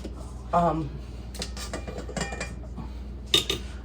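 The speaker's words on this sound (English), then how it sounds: "I am now using the whisk instead of the spatula" A whisk attachment beating mashed potatoes in a bowl, producing soft scraping and a few light metallic clinks at close range, with a person talking at moments over the mixing.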